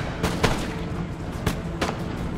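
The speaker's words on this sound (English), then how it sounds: "Here we go, about to give him a volley." A ragged musket volley in the video game Empire: Total War pops in a few quick bursts over a constant background rumble, moderately loud but somewhat distant.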